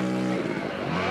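A four-stroke motorbike revs hard and pulls away on a wet track, its engine a loud, steady drone that shifts pitch as it accelerates off, with no talk over it.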